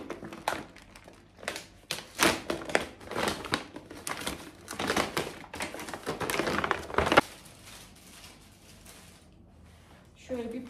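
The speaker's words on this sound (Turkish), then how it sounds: "Şu kargoyu açalım sizinle." A delivery parcel is torn open with crinkling plastic and rustling packaging in bursts of handling noise, close by, quieting near the end before a final rustle.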